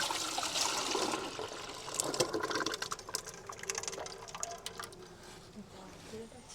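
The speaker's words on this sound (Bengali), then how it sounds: "আমি এই তিন লিটার জলটাকে পুরো এতে ঢেলে দিচ্ছি" Three litres of water poured from a container into a seven-litre bucket, a close rushing splash that gradually thins to a trickle, heard alone.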